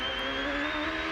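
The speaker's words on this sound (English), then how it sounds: "By listening to the engine, you can tell how his power down is." Champ Car race car engine at high, steady revs on track at the Houston Grand Prix, a loud continuous whine with slowly rising pitch, heard alone.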